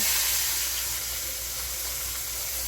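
Roast meat sears in a hot pan for a roast dinner, giving a steady, loud sizzling hiss that holds unbroken throughout with no voices.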